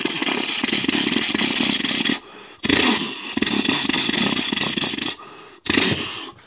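A voice imitates an old Allis-Chalmers tractor engine at a fairground, a loud chugging, rasping idle sustained in long bursts broken by two short gaps, the throaty rhythm close and dominant.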